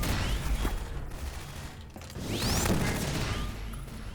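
Bursts of gunfire aimed at the player crackle in Half-Life 2, rapid shots and a loud volley over a dense game background, close and without talk.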